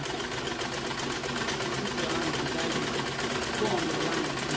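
A sewing machine stitching a panel skirt runs in a fast, steady mechanical chatter, close and continuous without pauses.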